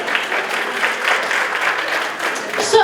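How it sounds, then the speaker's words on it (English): An audience at a Coastal Symphony of Georgia concert with the Glynn Academy Concert Choir breaks into sustained applause, a dense close wash of clapping throughout. "give a round of applause for yourself"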